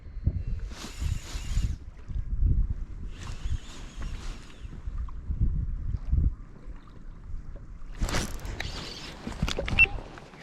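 Low gusty wind rumbles across the microphone over open water on the Kyiv Reservoir while fishing, with a few bursts of hissing splash or spray standing out.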